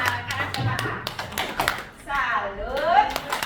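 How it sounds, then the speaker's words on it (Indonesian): An audience of parents and teachers claps a quick rhythmic salute pattern for a teacher at a school sharing session, sharp taps interleaved with group voices chanting along. "Bapak Ibu, tepuk salut untuk Bu Fitri yuk"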